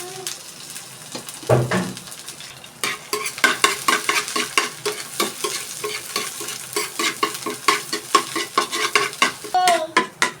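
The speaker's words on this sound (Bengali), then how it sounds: "ফোড়নের জন্য ফাঁস ফোড়ন দিয়ে দিলাম কিছুটা তারপর হচ্ছে তেতু করে রসুন" Panch phoron spices and garlic stirred and frying in hot oil, a sharp burst of sizzle followed by repeated scraping strokes of a spoon in the pan, loud and close, with no talking.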